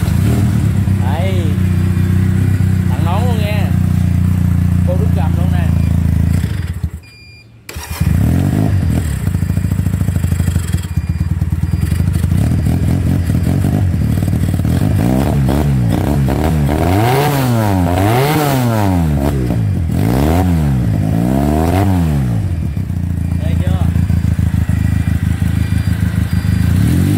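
A motorcycle engine for sale at a Vietnamese motorbike shop runs loud and steady, with repeated throttle revs rising and falling in its second half, while people talk over it.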